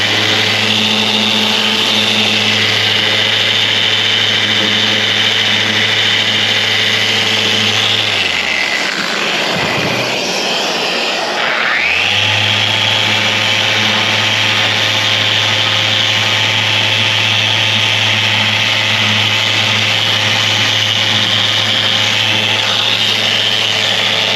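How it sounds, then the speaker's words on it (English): Power tool switched from grinder to dual action sander mode, working on boat gelcoat stress cracks: a loud, continuous close-up whine and buzz that dips sharply as it spins down around the middle, then revs back up and runs steadily. "You can even go from grinder to dual action sander mode."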